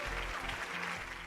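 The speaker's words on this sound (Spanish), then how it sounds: "Fuertes esos aplausos, excelente puntuación" Applause from a TV talent show audience, a brief, fairly faint wash of clapping heard on its own.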